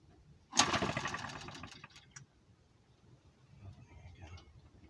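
A small new M12B gasoline engine is pull-started: one loud burst of cranking and brief sputter that fades within about a second and a half, followed by quiet with faint low rumbling.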